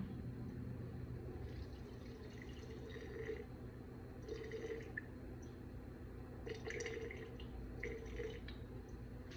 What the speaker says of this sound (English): I'm going to feed the exact same amount of water that I did flour.